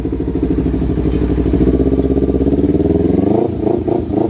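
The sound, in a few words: Ninja XL200 motorcycle engine running after push start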